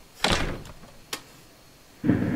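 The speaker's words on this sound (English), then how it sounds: "I'm gonna try the other doors really fast." Doors in a house are tried one after another, giving a loud opening thump, a sharp knock or click about a second later, then another rattling door movement near the end.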